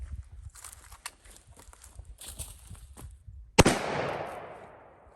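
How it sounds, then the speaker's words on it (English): A single sharp, loud AK rifle shot at close range on body armor plate bursts out after a few seconds of quiet shuffling and soft knocks, leaving a decaying ringing tail. "So we're gonna hit it with the AK repeatedly from close range."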